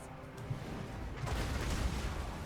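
Distant heavy impacts of trebuchet shots landing amid a Total War: Warhammer 2 battle, a couple of dull booms rising out of a rumbling wash of battle noise.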